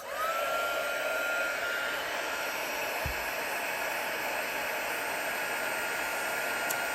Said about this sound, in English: Now we need to heat this with our heat tool.